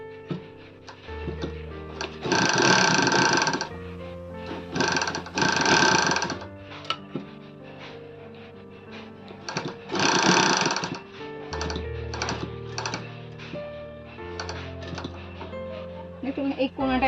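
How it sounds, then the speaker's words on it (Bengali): A sewing machine runs in several loud bursts while stitching a triangular nightie neckline, pausing between runs, with someone talking over and between the stitching. "তো দেখুন আমি সেলাই করছি এরকম দেখতে পাচ্ছেন"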